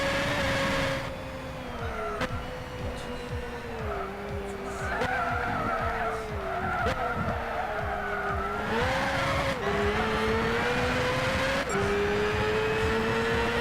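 A race car in Gran Turismo 6 at Le Mans screams through its gears, the engine note rising and falling through corners and chicanes, with loud tire skids and squeals throughout.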